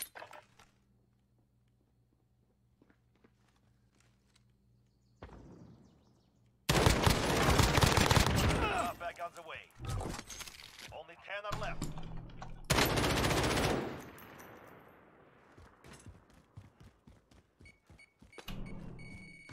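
Gunfire in the video game Call of Duty: Warzone: after a quiet opening, loud bursts of rapid automatic fire with sharp shots and rattling echoes crowd the second half, with a brief lull between volleys.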